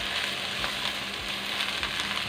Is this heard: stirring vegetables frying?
yes